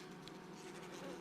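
Honeybees buzzing at a hive in January, a soft steady drone heard up close and quiet, alone without any voices.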